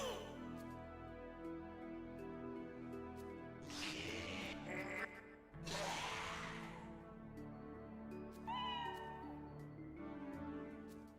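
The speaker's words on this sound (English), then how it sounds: "Did you hear that cat meow?" A cat meows in the Shin Megami Tensei V video game on Switch, a short cry standing out over layered game music and ambience, with other sound effects around it.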